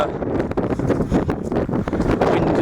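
Strong wind buffets a microphone on an open hilltop in the Mendips, a loud continuous roar with gusty surges and rumbling bursts, no voices.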